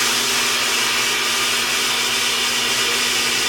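Steady, loud broadband rush of air entering a freeze dryer's vacuum chamber through an opened valve, a continuous hiss holding even for several seconds with no pauses.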